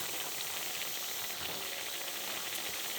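Potatoes, onion, green chillies, turmeric, salt, cumin seeds, ginger-garlic paste and mustard paste sauté slowly in oil, a constant soft hiss and sizzle running evenly throughout.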